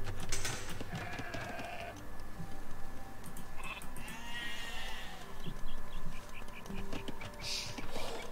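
Sheep bleat several times over a busy, cluttered Age of Empires 2 DE soundscape with steady background noise and scattered clicks.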